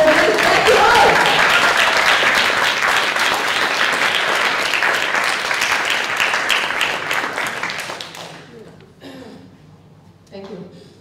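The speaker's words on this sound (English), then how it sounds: "please give a warm clap" An audience breaks into loud, sustained applause for a speaker being introduced, the clapping fading out after about eight seconds as a voice begins talking.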